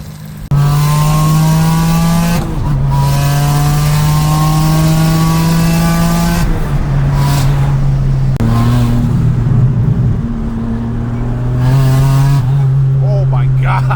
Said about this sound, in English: Look at that spin. Bet you never seen a Tiburon like this.